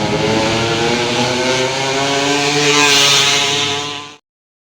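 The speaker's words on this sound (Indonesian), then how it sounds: "Knalpot brong adalah knalpot kendaraan bermotor yang telah dimodifikasi agar menghasilkan suara lebih keras dan berbeda dari knalpot standar" A motorcycle with a loud modified aftermarket exhaust roars continuously at close range, a rough, buzzing engine note that holds steady for about four seconds before cutting off abruptly.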